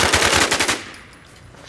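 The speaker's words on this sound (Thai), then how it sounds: "มันยิงกันพี่หนุ่ม" Rapid automatic gunfire from a multiplayer shooter game, a loud, close string of evenly spaced shots lasting under a second before fading into quieter game ambience.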